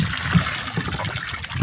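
Water splashing and gushing as it is bailed and tossed out of a small wooden fishing boat during traditional net fishing in Bataan, with uneven, repeated splashes and a trickling wash close by.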